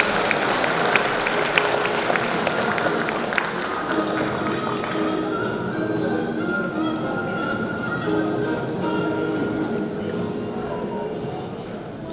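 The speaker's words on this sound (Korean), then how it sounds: "다시 한번 부회장님께 큰 박수 부탁드리도록 하겠습니다." An audience at a pharmacists' association event applauds the vice president, sustained dense clapping that carries on steadily, then thins toward the end, with a voice speaking over it.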